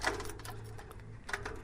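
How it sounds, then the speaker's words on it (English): Quiet mechanical clicks and rattles of a lock being worked, with a couple of sharper metallic clacks near the start and again near the end. "sound of doors being unlocked"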